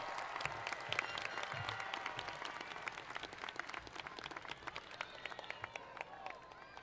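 Scattered applause and cheering from a crowd at a Tift County High School graduation ceremony, fairly distant and thin, with sharp individual claps and a few voices over a continuous background murmur.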